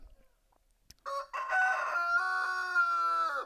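After a brief quiet moment and a small knock, a buff Orpington rooster lets out one long, loud crow close by, rising then holding before trailing off.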